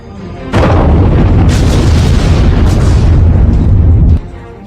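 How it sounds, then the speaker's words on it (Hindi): A massive explosion erupts suddenly and roars on for several seconds as a loud, dense rumbling blast before cutting off abruptly. "एक धमाका, बख्तरबंद गाड़ियां बर्बाद।"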